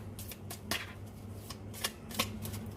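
Tarot cards shuffled close up in a quiet room, giving several short papery riffles and flicks at uneven intervals, with no talking.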